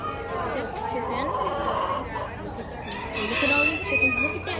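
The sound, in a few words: chickens clucking at a county fair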